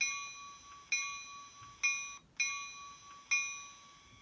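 Locomotive bell on a Märklin/ROCO HO-scale Ontario Northland Northlander model train, ringing five evenly spaced metallic clangs with bright ringing overtones, each decaying before the next, close and clear with no talk.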